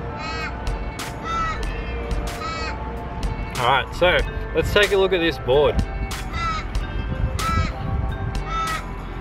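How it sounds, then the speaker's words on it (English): Loud crows caw repeatedly in Australia, harsh calls recurring throughout, prominent under and between someone talking close by. "it's just loud birds in Australia."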